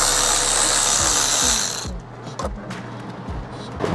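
A ratchet removes bolts from a wrecked Ferrari 458 Italia, with a loud whirring spin at first that gives way to a series of sharp, irregular clicks and knocks close by.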